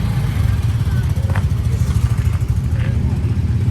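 Motorcycle ride on a Zeeho AE4 84V electric scooter, a steady low rumble and road noise running throughout with voices talking over it.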